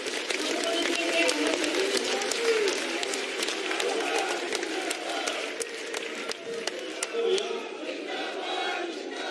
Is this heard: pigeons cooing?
no